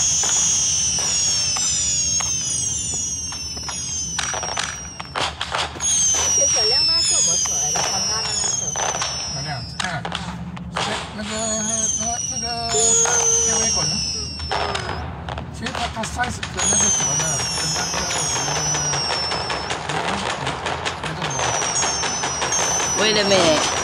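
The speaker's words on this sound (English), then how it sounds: "just fireworks though" Fireworks at a huge display burst in rapid, overlapping volleys of cracks, bangs and whistling trails, loud and continuous, with people talking and exclaiming at times.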